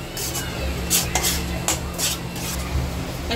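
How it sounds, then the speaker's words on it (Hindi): A spoon stirs a spice mixture in a pan, making repeated scraping and rubbing strokes in an uneven rhythm, close and fairly loud with no voices. "इसे अच्छे से चला लेंगे"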